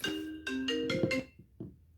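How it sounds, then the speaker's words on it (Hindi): A mobile phone rings with a melodic ringtone, several bright tonal bursts in quick succession, fairly loud and close, heard alone with no speech. "फोन बज पड़ा"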